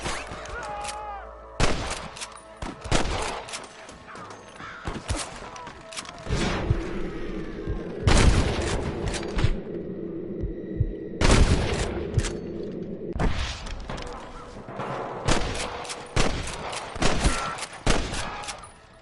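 A gunfight in the Western video game Red Dead Redemption, with repeated loud gunshot volleys in clustered bursts separated by short lulls, plus background voices between the shots.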